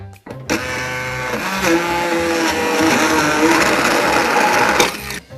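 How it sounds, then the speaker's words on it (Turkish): Kitchen blender whirring at high speed as it blends walnuts, lemon juice, a cold egg and olive oil into mayonnaise, starting abruptly, running loud and steady for several seconds, then cutting off. "Hızlı bir şekilde blenderdan geçiriyorum."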